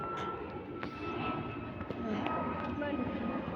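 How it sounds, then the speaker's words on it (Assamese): Airplane passing overhead, a low, broad engine rumble building slightly toward the end, fairly distant, with people talking faintly in the foreground. "প্লেন গৈছে প্লেন"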